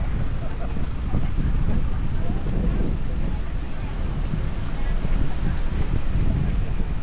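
Strong wind buffets the microphone at Samila Beach, a loud, continuous rumbling roar with surf-like gusts throughout.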